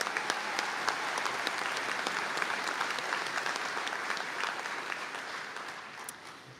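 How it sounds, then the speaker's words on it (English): Graduates applauded at a university conferring ceremony in Donegal, a steady, moderately distant hall-wide clapping that holds evenly and tapers slightly toward the end. "If you'd like to give them all a round of applause"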